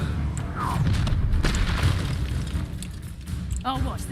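A fire spell, Incendio, is cast in a video game, producing a booming, roaring burst of flame amid dense combat noise, with voices speaking over it.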